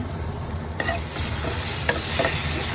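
Ground coriander and cumin fry in a pan with a constant close sizzle, and a few sharp stirring scrapes and clinks sound against the metal.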